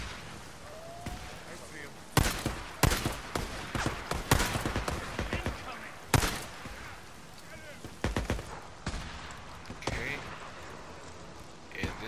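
Sniper rifle fire in the video game Days Gone, sharp gunshot cracks and booms at irregular intervals, some in quick clusters and a few isolated, over a rumbling background with speech mixed in.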